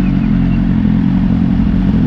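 A motorcycle engine runs steadily at close range, a loud low rumble with some clatter that holds without a break and has no talk over it.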